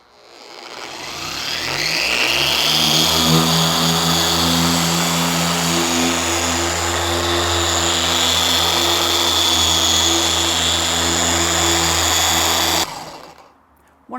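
An orbital polisher runs steadily on a car's paintwork during compounding and polishing, a loud continuous motor whir with a rising pitch at start-up, holding for about twelve seconds before cutting off abruptly.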